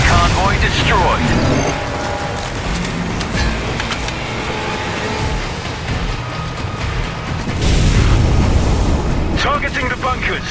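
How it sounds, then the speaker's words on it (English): Continuous loud rumbling blasts and crackling booms fill a war video game as an enemy convoy is destroyed, with engine noise and a voice speaking over the dense explosions. "Enemy convoy destroyed."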